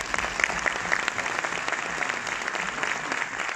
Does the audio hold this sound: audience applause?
yes